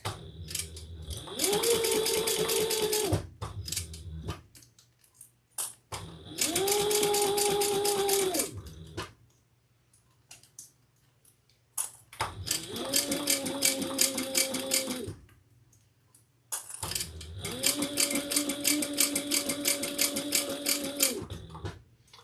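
A sewing machine stitches a handbag flap in four distinct runs of a few seconds each, its whirring motor and rapid needle clatter loud and close, separated by short quiet pauses.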